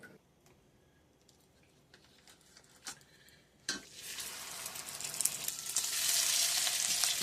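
French toast sticks frying in a pan for breakfast: a few light utensil clinks and taps, then a loud, close sizzle bursts in and keeps building to a steady hiss.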